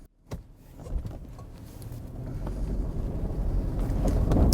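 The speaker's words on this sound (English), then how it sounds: "now I'm going to put it into drive, and the vehicle is going to drive on its own" A 2018 Toyota 4Runner TRD Off-Road moves itself slowly across rough terrain at an off-road vehicle park: a click at the start, then a steady engine and tyre rumble that grows louder throughout, with no talking.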